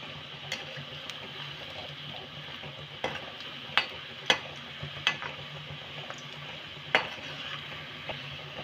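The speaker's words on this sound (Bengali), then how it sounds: "হালকা করে নেড়ে নেব, লাল লাল করে কিন্তু ভেজে নেব" Moong puli pitha stirs and fries in a pan over a medium gas flame, with a steady soft sizzle of oil and several sharp spatula clinks and scrapes against the pan, heard alone.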